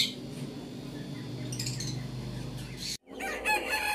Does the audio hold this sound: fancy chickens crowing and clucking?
yes